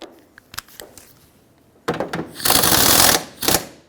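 Power tool tightening a battery tray support brace bolt on a Chevrolet Silverado 2500 HD, with light clicks and handling noises followed by a short close burst of ratcheting whir and a final quick zip.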